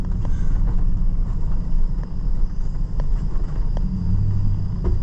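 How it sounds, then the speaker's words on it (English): Pickup truck crawling in four-high through a very wet field, a loud, steady low engine and drivetrain rumble heard from inside the cab with faint knocks and rattles. "It's kind of foolish to be driving out here with a pickup, but four high."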